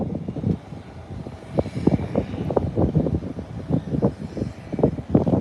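A Beechcraft aircraft passes over Providenciales in the Turks and Caicos, its engine making a loud, rumbling drone with gusty, pulsing texture and no talking.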